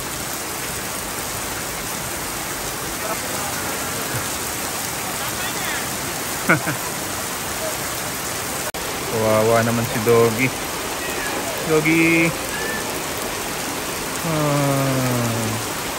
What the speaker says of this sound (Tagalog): Lalo lumakas ulan.